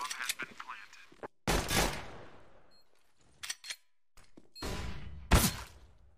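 Bursts of gunfire from a competitive Counter-Strike match crack out in several separate volleys, sharp and loud with brief silences between them.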